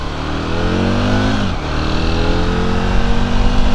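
A 2000 Aprilia RSV Mille 1000 cc V-twin motorcycle accelerating hard, loud and close, its engine note climbing steadily through the revs with a brief dip around a gear change before pulling up again.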